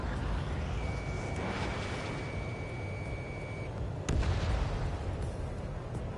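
Anti-aircraft fire rumbles in a jet combat video game, a dense continuous low booming barrage with a steady tone beeping midway and a sharp louder blast near the end.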